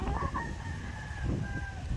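White leghorn chickens call nearby, with a drawn-out crowing or cackling tone over a steady farmyard background.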